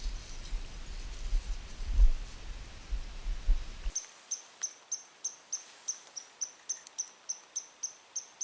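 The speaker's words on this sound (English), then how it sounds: "As you might be able to hear, there's now a red squirrel on the island." A red squirrel on a wilderness island in Temagami calls with a run of about a dozen evenly spaced, sharp high chirps. The calls follow a few seconds of low rumbling at the start and come through clearly at moderate distance.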